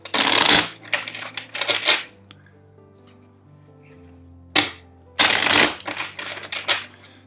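A deck of tarot cards being shuffled by hand, brisk riffling bursts in several separate bouts with short pauses between them, close and crisp over quiet sustained background music.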